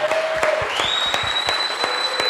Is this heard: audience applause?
yes